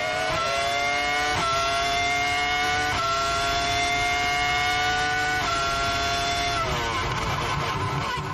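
Screaming V10 Formula 1 engines at Bahrain's Sakhir circuit in 2004 blare loud, high and continuous, the pitch stepping up through several gear changes before dropping away near the end.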